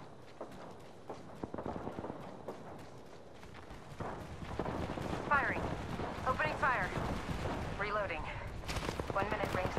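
Video game gunfire in a battle royale match, bursts of rapid shots and scattered single reports at moderate distance, mixed with footsteps and game voice callouts.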